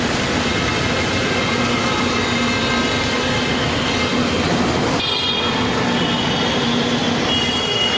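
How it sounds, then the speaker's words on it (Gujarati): Loud, continuous rumble of a metro train at a station, with grinding wheel noise and faint squeals, steady throughout with no talking. "અહીંયા જ ભાઈ આપણું મેટ્રો સ્ટેશન છે"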